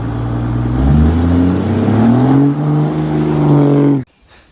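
A diesel truck's exhaust roars loudly close by, its engine revving up with rising pitch, dipping briefly, climbing again, then cutting off abruptly to quiet.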